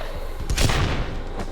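A burst of video game battle gunfire, a dense loud volley of booming shots peaking mid-clip and trailing off with a final thump.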